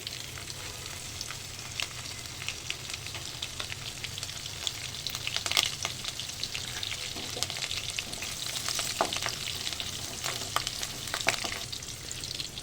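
Cumin seeds and finely chopped green chillies sizzling in hot peanut oil, a steady dense crackle with small pops throughout, close and unbroken, with no talking.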